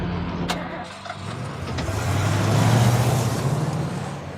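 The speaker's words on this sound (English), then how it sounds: "And start the damn truck!" A truck engine starting in the Walking Dead: Survival Instinct video game: a rough crank builds into a loud, steady, low rumbling idle that fills the whole moment.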